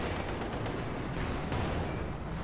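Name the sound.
Grenadiers' gunfire in a real-time strategy video game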